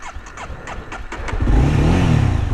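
A swapped-in motorcycle engine fitted to a Honda Grom build revs up, starting from light ticking and growing into a loud, sustained mid-pitched engine roar over the last second.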